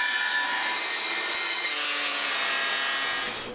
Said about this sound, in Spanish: se da terminado o brillo a las campanas con lija o con